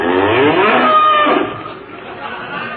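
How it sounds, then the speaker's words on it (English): Cattle mooing out on open plains in an old radio drama scene, several low drawn-out lowing calls overlapping loudly and steadily, with faint chatter in the background. "just poking around the cows."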